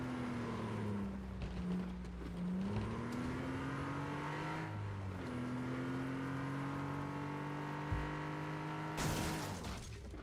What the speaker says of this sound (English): You can hear those turbos the whole time, which is fun.